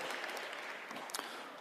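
A faint, brief round of applause from the audience at a basketball coaching clinic, a steady wash of clapping heard alone from some distance.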